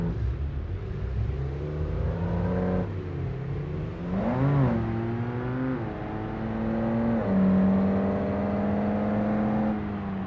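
A race car engine in BeamNG, career mod, revving up and down through the RPMs, a buzzy whine that climbs and dips in pitch, with a sharp rev surge midway and steady droning between, close and loud.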